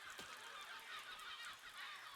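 Geese honk repeatedly in a steady, moderately loud chorus of birds in the physics building game Besiege, with no talking.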